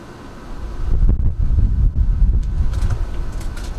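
Gusty outdoor wind buffeting the microphone in a garden, a low rumbling roar that swells and stays loud and close, with no talking.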